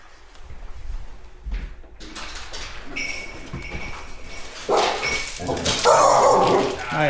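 Dogs brought indoors into a house bark and whimper excitedly, with claws clicking on the floor and a door sliding, growing louder toward the end amid people talking.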